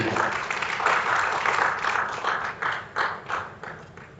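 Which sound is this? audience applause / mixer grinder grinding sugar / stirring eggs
audience applause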